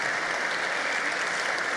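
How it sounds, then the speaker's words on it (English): Sustained applause from a large congress audience in a great hall at a European socialist party congress, steady and dense throughout with no talk over it. "Let's give him a round of applause for what he has done in the efforts against climate change."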